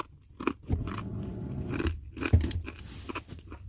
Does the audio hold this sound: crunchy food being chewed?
yes